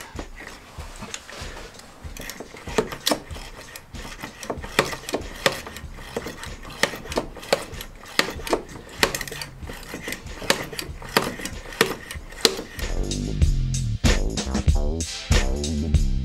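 Brake fluid is pressurized for bleeding by pumping a hand pump, giving a quick run of sharp mechanical clicks and knocks, close and moderately loud, that turns into a denser hissing rasp near the end.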